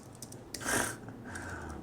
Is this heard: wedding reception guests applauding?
no